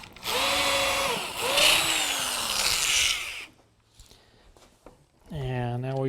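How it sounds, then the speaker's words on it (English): A power drill countersinks a screw hole into a wooden plant stand leg, whining loudly in two long bursts over the first three and a half seconds, then stopping; speech follows in the quieter second half. "so I countersink it into the leg."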